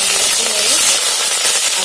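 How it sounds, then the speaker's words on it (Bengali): Onion sizzles in hot oil in a kadai (wok), a loud, dense, continuous hiss that holds steady from start to finish. "এবার কড়াতে তেল দিয়ে পেঁয়াজ"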